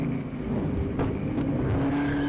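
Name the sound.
Dodge Charger speeding off from police stop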